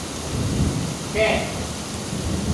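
Thunder rumbles through a steady rainstorm, with rain hissing throughout and a brief swell of thunder near the middle; a faint voice may be present under the noise.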